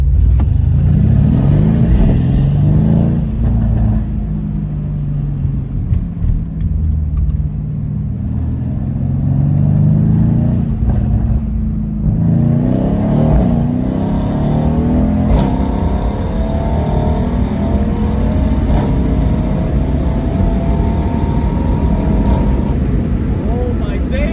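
A Mercedes C63 S Cabriolet engine roars and revs through a series of manual gear shifts, loud and close, rising and falling in pitch with a steady low rumble underneath.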